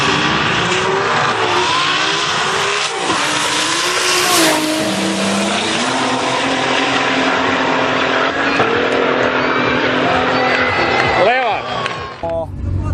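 A 1300-horsepower street race car fitted with nitrous accelerates hard, its engine note climbing and dropping through gears with sharp revving sweeps and a brief tire squeal near the end, loud and close throughout.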